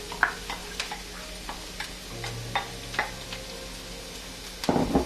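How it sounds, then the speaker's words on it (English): Onions sizzling gently in a little vegetable oil in a pan, a steady soft crackle with scattered small pops and the odd utensil tap, ending in a brief louder clatter. "add some vegetable oil into my pan. You can use olive oil or even butter. Not much, a little bit enough. and fry the onions"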